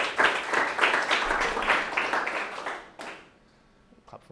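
A lone speaker at a game level-generation talk claps for himself, a quick run of distinct, fairly loud claps with an even rhythm, then it fades to near silence with a faint tap.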